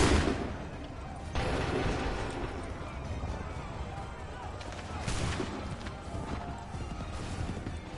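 Musket volleys fired in Assassin's Creed 3: sharp, loud bursts of massed gunfire at about the first, fifth and seventh seconds over a noisy battlefield rumble, with shouted commands heard in the mix.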